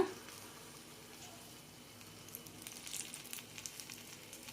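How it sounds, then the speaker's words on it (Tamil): Suzhiyam sweet balls frying in hot oil, a soft, steady sizzle and crackle that swells slightly toward the end, close by and fairly quiet with no voices. "இப்போ இதை வந்து எண்ணெயில் அப்படி போட்டுக்கலாம்"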